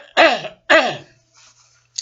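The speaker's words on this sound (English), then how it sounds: "That's my normal cough, by the way." Two short, forceful coughs from a man in quick succession, close and fairly loud, followed by quiet.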